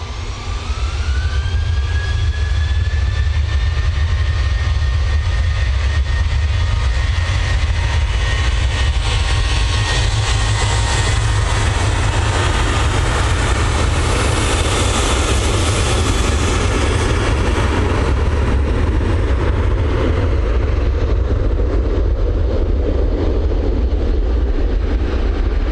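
A jet airliner takes off from runway 23 left at Manchester Airport with a loud, continuous engine roar and a rising whine that builds and then slowly fades as it climbs away.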